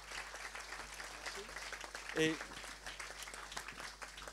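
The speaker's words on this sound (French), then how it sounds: "on peut l'applaudir, ouais" Scattered audience applause greeting an arriving guest at a talk about the Manta project, moderate clapping under speech with a brief voice interjection midway.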